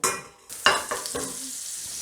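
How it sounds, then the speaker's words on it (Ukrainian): Beef sizzles in a hot pan with oil and butter for beef stroganoff, with scraping and stirring sounds and a few sharp clinks of a utensil against the pan. "Та починаємо обсмажувати м'ясо"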